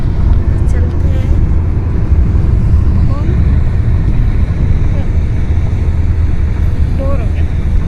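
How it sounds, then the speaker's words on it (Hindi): Steady low rumble of a car moving along a foggy road, heard from inside the cabin, with constant engine and tyre drone filling the whole stretch and faint chirps now and then. "भैया गाड़ी चला रहे हैं"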